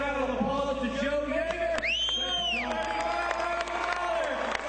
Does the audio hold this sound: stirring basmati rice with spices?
no